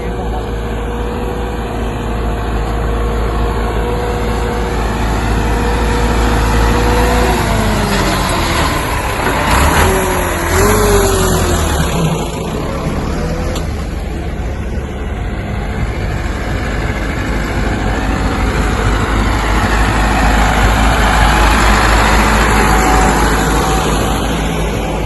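A tractor engine labours up a steep, sandy slope near Mangla Dam, a loud continuous low rumble that strains and shifts pitch as it climbs, with a voice speaking over it.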